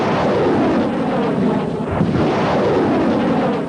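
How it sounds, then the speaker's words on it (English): Artillery fire along the Kuwait–Iraq border in 1991 news footage, heard as a loud, continuous rumbling roar with distant booms blending together and no clear separate shots; no talking. "Artillery duels were again fought along the border today."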